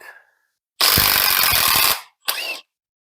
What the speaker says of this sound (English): We're gonna start with the 13 mil 3/8 drive. See if it can do the job.